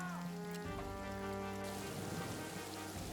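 Rain falls steadily in the trench-warfare video game All Quiet in the Trenches, a soft constant patter heard faintly beneath sustained musical tones.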